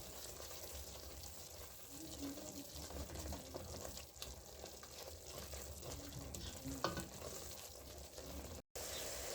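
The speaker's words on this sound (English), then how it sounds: "we will continue stirring until we get the fine paste I want" Tomatoes frying in a pan while being stirred into a paste for a mung bean dish, a soft continuous sizzle with occasional scraping of the spoon and a brief cutout near the end.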